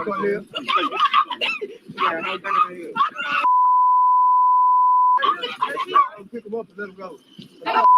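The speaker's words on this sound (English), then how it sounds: "the beeping's more annoying than the actual cuss word?" A single sustained electronic bleep lasting about two seconds cuts across lively talk, with a short second tone starting at the very end.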